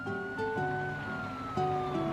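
A cartoon police car siren wails in a steady two-tone pattern, loud and close, with synthetic pitched tones stepping up and down and no talking.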